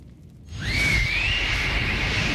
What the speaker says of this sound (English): Pontos blew the hunting whistle.